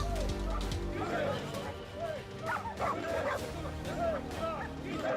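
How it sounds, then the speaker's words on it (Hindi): Sniffer dogs at a BSF dog training centre in Bikaner bark, yip and whimper repeatedly amid a busy crowd babble and voices, the calls close and overlapping throughout. "बीकानेर के बीएसएफ डॉग ट्रेनिंग सेंटर में खोजी कुत्तों की ट्रेनिंग दी जा रही है"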